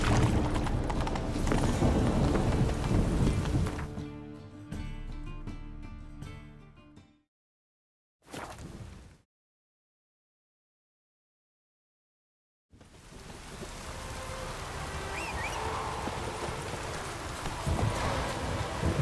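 A horse gallops in The Witcher 3 video game, with steady hoofbeats that cut out into a few seconds of silence and then return.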